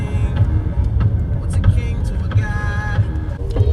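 Team bus carrying players directly to their hotels, with a steady low engine rumble and road noise throughout while people talk over it.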